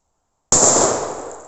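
A small firecracker of about one gram bursts in one sharp, loud bang after silence, followed by a fading ringing tail.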